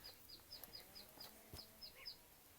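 Soft, repeated clucks from chickens come in a steady series of short calls, fairly faint and distant, with no talking.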